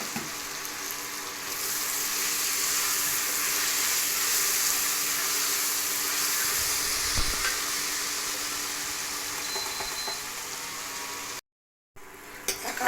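Tomatoes sautéing in a pan for brinjal rice, a soft continuous sizzle and hiss close by, steady and fairly quiet, with a brief dropout near the end.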